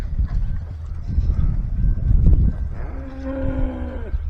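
Cattle on a farm moo loudly and close by, one long drawn-out low call following a stretch of restless herd noise and shuffling.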